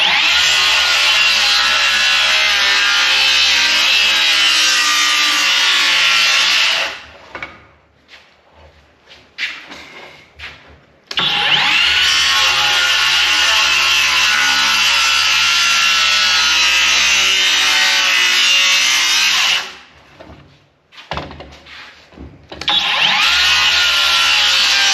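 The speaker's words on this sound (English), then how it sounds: "There's the problem with the battery-powered saw" A battery-powered saw cuts through wood in two long, loud, steady passes, each lasting several seconds, with a brief lull and scraping handling noise between them and no talking.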